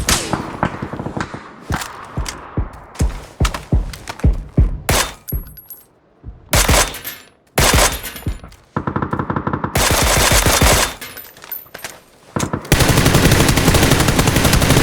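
Gunfire in PUBG team play: repeated loud bursts of automatic fire and single shots, some long sustained volleys, with brief gaps and impact crashes in between.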